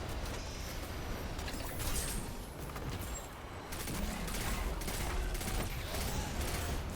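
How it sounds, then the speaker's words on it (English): Rapid pulse rifle fire from Destiny, aimed at a barrier Hobgoblin in a solo Grandmaster Warden of Nothing run, rattles in steady bursts throughout, loud and close over dense game noise. "it's just shooting this barrier hobgoblin with a pulse rifle"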